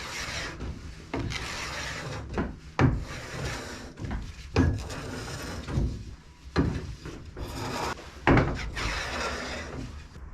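A scraper drags across a board to strip off Mountain Flow Eco Wax, giving repeated rasping, scraping strokes at close range in an irregular rhythm, with brief pauses between passes.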